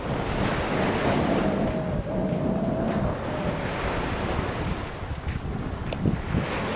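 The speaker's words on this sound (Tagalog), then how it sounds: "alon-alon lang konti." Ocean surf rolls onto a shore on a fishing coast, a continuous loud wash of breaking waves mixed with gusting wind buffeting the microphone, with no voices.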